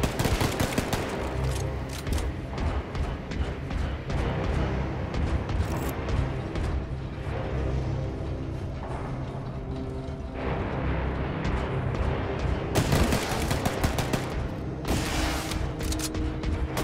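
Dense, loud gunfire in Wolfenstein 2 The New Colossus: sustained automatic bursts and heavy booms rattle almost without pause, with sharper volleys flaring near the end.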